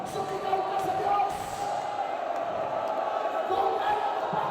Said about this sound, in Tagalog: kung kaya niyo pang sumigaw, sumigaw ka sa Diyos